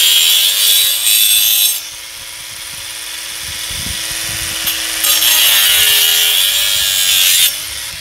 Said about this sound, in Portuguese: a gente está cortando um caibro aqui maior